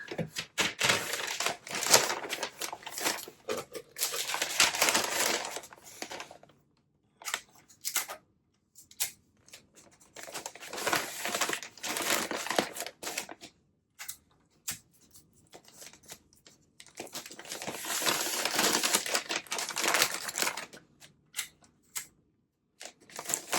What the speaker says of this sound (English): Let's see if I can fold it up a little bit more narrow to fit in a poly mailer better.